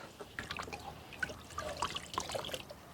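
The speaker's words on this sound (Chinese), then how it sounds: "这个鸡把它清洗干净，给它多清洗几次" Water trickles and splashes softly while a whole chicken is washed by hand, a faint irregular dribble with small drips and sloshes, no voices.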